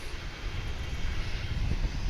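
A Martin Super Cargo Master plane, about 25 years old, rumbles steadily at DFW International Airport, a continuous broadband engine roar with a low-end drone that holds level and close throughout.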